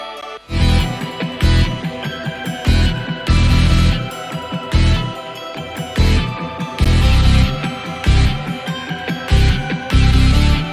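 Dense electronic music with stacked synth lines over punchy kick drums, a steady pulsing rhythm looping loudly with no voices.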